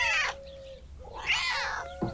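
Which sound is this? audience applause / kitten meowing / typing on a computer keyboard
kitten meowing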